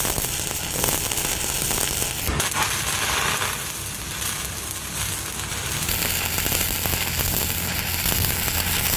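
Electric arc welding with 5/32 rods at about 131 amps in the flat 1G position gives a steady, loud crackling and sizzling that runs through the whole stretch, without speech.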